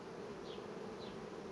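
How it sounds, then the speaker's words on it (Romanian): Honey bees buzz steadily at the frames of an open hive, a dense close drone holding at even strength throughout with no voices. "albina urgent bagă nectar"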